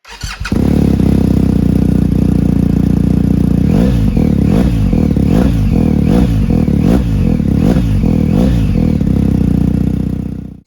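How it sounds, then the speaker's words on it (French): A BMW R1250GS boxer engine fitted with an Akrapovic exhaust with its baffles removed and the stock line starts up and idles loud and close, then revs in a string of sharp, evenly spaced blips. "Là, ce sera le pot Akra sans chicane avec la ligne d'origine."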